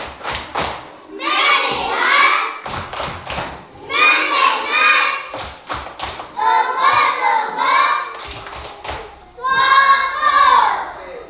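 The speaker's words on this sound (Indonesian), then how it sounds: "Tepuk fokus" Children perform a rhythmic focus clap led by a teacher, with crisp bursts of clapping that alternate with loud chanted responses from the group in a repeating pattern.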